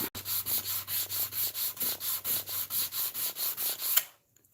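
Finer-grit sandpaper is rubbed back and forth over a surface in about sixteen quick, even strokes, a close, steady scratchy rasp that stops abruptly.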